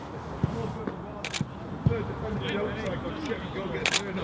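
A single-lens reflex camera fires a series of sharp shutter clicks while shooting bracketed frames without flash, several crisp snaps spaced irregularly, close by, with quiet background noise.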